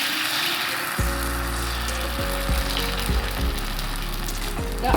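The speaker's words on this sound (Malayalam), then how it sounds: "ദോശക്കല്ല് നല്ലോണം ചൂടായിട്ടുണ്ട് കേട്ടോ അപ്പം നമ്മൾ ഒഴിച്ചു കൊടുക്കാം" Dosa batter poured onto a hot griddle bursts into a loud, steady sizzle about a second in, with a few scraping spreading sounds over the continuous crackle.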